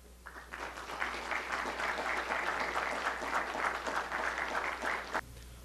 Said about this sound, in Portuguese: a salva de palmas, não para mim, mas para o Fadel